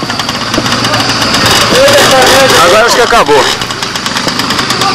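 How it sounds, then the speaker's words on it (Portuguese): A motorcycle engine runs and idles steadily outdoors at Interlagos, a constant mechanical drone under lively Portuguese conversation between several people close by. "ah, o barulho da moto"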